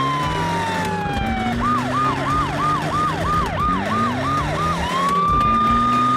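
Cartoon police car siren during a chase: a loud, steady tone breaks into a rapid repeating yelp, then returns to a long held wail, with an engine drone underneath and no talk.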